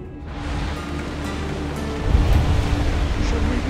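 Sea waves in the video game Assassin's Creed Odyssey, a broad continuous wash of surf and wind that swells louder halfway through, with a low rumble, close and steady.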